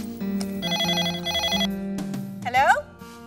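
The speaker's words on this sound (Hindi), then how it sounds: "गुरिंदर मासी का फोन" A telephone rings in a Hindi sitcom household scene, its bell repeating in two short bursts over background music and voices, followed by a brief sweeping tone.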